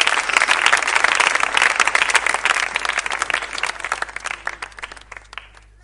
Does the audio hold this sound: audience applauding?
yes